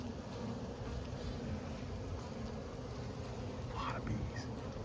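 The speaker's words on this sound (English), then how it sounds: "A lot of bees." Dense, steady buzzing of many honeybees during a colony cutout fills the air, close and continuous, with a faint murmur of voices beneath.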